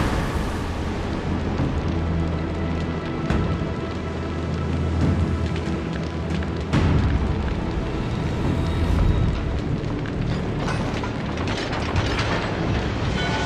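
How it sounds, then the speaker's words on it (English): A burning battleship rumbles in the World of Warships naval game, with a heavy continuous roar of fire and engine noise broken by a few dull explosion thuds. "The ship is on fire."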